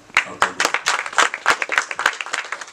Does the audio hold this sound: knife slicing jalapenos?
no